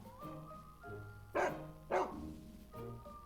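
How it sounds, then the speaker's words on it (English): Two loud barks from big dogs stand out sharply over a steady background of music or tones, spaced about half a second apart mid-clip. "Number 3, fear of big dogs."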